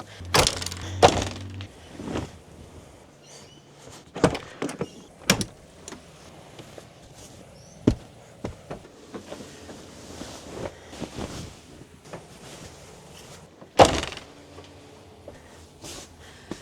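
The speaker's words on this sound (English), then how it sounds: "it's a bit easier opening the doors to do it" Van doors opened and handled during a clean-up after a trip, giving several sharp thunks and latch clatters spaced through the stretch, with rustling and small knocks between them, close by and with no talk.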